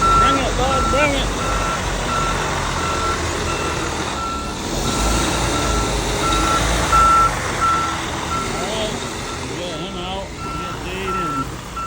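A concrete delivery truck reverses on a job site, its backup alarm beeping in a steady repeating pattern over loud diesel engine noise, with people talking nearby.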